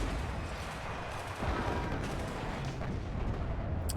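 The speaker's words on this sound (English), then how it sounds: "And we finished it off with a airstrike" Tank engagement and airstrike explosions in WARNO, heavy booming blasts and rumbling impacts over a dense battlefield roar, with a sharp hit midway and continued loud rumble after.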